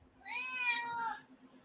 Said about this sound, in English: hush up, cat